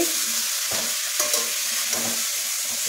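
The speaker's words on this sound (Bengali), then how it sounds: "অন্যকে একটু খুন্তি নাড়াচ্ছে" A spatula stirs khichuri in a hot pot at home, sending soft scrapes and knocks over a steady frying sizzle, with three clear strokes spaced about a second apart. No talking.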